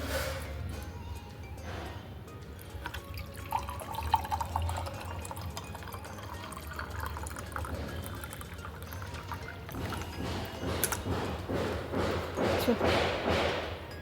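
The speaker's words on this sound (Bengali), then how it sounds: "তো চলো একটু জল খেয়ে নিই।" Cold, clean water is poured and drunk, with faint splashing, trickling and soft thuds over a low background hum, growing louder and busier toward the end.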